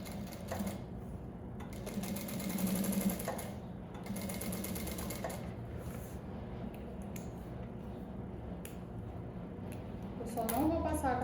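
A sewing machine stitches a finishing seam on a TNT fabric bag, running steadily and close with a brief back-stitch, while someone talks quietly over the whirring motor.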